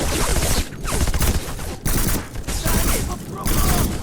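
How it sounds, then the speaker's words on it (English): Long rifle rounds in the video game Black fire in loud sustained bursts separated by short gaps, the shots dense and close throughout. "You just saw there how useless firing a lot of rounds at a distance is."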